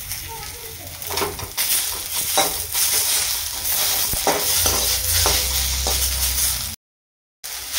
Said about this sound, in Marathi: त्यात आपण याच्यामध्ये टोमॅटो टाकूया आणि अजून ह्याला 1 ते 2 मिनटं छान भाजून घेऊया.